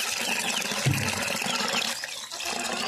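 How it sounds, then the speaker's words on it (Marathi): Water is poured into a container of wheat grains to soak them, a short, close splashing and gurgling pour with one fuller burst near the start. "जेवढं गहू भिजतंय तेवढं पाणी ओतवा त्यामध्ये"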